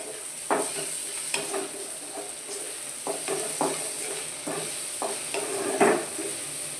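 Coriander powder, onion-garlic masala and turmeric stirred into a pan for soybean bhurji, a spoon scraping in a steady series of short strokes over a faint sizzle, close and fairly quiet.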